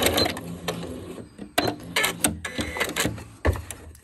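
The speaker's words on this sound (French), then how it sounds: "Et moi, je vais coudre le plus au bord possible en me calant." A domestic sewing machine topstitches close to the edge of fabric, stitching in uneven bursts with short pauses, close and fairly loud, with no talk over it.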